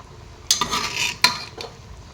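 Potatoes tip into a cooking pot for a fish curry with green peas and cauliflower, landing as two sharp clattering thuds with a scraping stir between them, close and fairly loud, with no voices.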